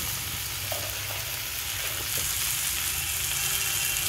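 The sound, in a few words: drumstick curry simmering in a pan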